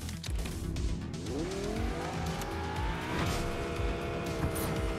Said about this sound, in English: Come in, get in the car. We're going.